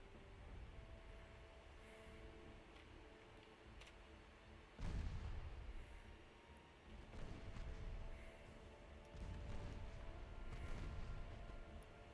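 Warship guns fire in the naval battle game Ultimate Admiral Dreadnoughts, faint distant booms rolling over a constant low rumble of sea and engine noise, with a few heavier thuds spaced seconds apart.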